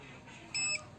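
Handheld gold detector scanner gives a single short, clear electronic beep, close and bright against a faint background.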